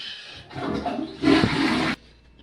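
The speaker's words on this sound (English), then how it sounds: "Flush." A toilet flushes at home before bed, a rushing watery roar that builds, swells loudest near the end, then cuts off abruptly, fairly close and with no talking.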